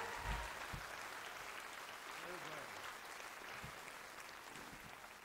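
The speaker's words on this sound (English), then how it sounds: "Would you give them another round of applause as they leave the stage?" A concert audience at St John's Smith Square, London, during the New Year's Day Parade concert series, applauds steadily as a band leaves the stage, a faint, even wash of clapping heard from a distance.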